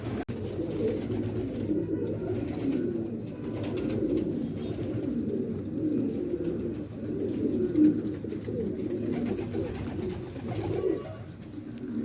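Pigeons, including a female bird, coo in low, soft, repeated murmurs that continue steadily and close by for about twelve seconds, with no talking over them.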